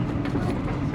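The Awam Express runs at about 70 km/h between Hyderabad and Rohri, producing a steady low rumble of wheels on rails as heard from inside an AC Standard coach, with no talking.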